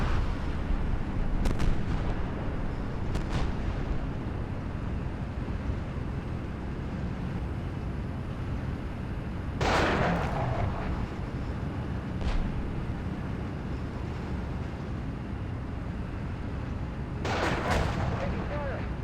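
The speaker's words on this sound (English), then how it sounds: "A troop of Challenger 2s are destroying them one by one." Challenger 2 tanks fire in a war simulation game, with two sharp, loud cannon blasts spaced several seconds apart over a constant rumble of battle noise and lighter distant shots.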